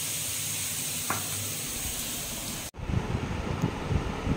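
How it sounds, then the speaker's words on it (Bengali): Carrots, onion and green chilli fry in a pan, a constant hissing sizzle that cuts off abruptly and resumes with rougher, crackling bursts. "একটু গাজর, পেঁয়াজ, কাঁচা লঙ্কা খুব ভেজে নিয়ে"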